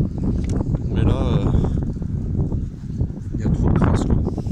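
Wind buffets the microphone outdoors during a BMW E90 car wash, rumbling in uneven gusts throughout while someone talks over it.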